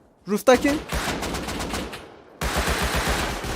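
Gunfire in the online survival game Rust, a loud burst of rapid shots with a brief pause before dense, sustained firing resumes, with team voice chat faintly underneath.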